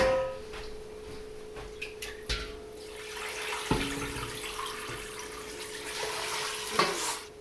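Tap water runs steadily into a pan to cover leftover turkey bones for broth, with a few clinks of handling partway through.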